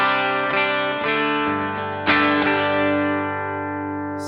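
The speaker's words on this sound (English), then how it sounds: "Here is the clean sound." A clean electric guitar rings out alone with no pedal boost, with several strummed chords and picked notes sustaining and decaying, struck again strongly about halfway through.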